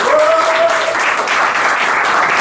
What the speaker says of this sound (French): c'est Ryan Babassi, on peut l'applaudir aussi, voilà, Ryan.